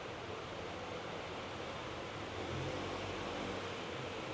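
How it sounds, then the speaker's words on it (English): Dense, steady hiss of heavy rain pouring down continuously, broadband and unbroken, with no voices. "Oh my god, it's raining hard."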